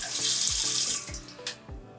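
Tap water running into a sink to rinse off a device, a close splashing stream broken by a few short thumps and changes in flow as the item is moved under it.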